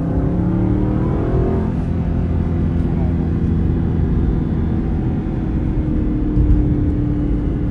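Aston Martin V8 Vantage AMR with a 4.7-litre V8 pulling hard on a straight open road, a steady deep engine drone rising in pitch throughout while someone talks over it from inside the car.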